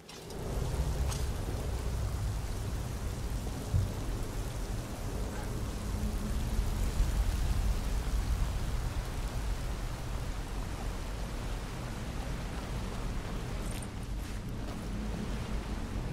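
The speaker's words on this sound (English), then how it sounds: "Behind the waterfall." A waterfall in the Skyrim video game: steady, rushing water noise heard close, a constant broadband roar with no speech over it.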